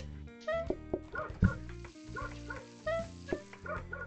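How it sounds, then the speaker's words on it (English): Neighbours' dogs bark in repeated irregular bursts, with some yips and whimpering, heard at moderate distance from a home kitchen where dumplings and apple pie are being made; no talk over it. "I hear dogs."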